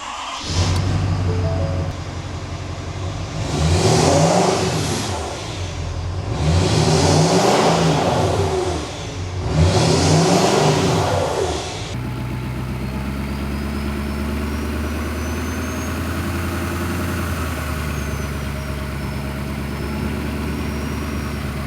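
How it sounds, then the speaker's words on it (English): A Ford 6.7 Powerstroke diesel pickup engine with a cold air intake revs three times in strong, rising surges, then settles into a steady, loud idle rumble with a faint turbo whine above it. "start the truck, and let's see if we have any cool turbo noises"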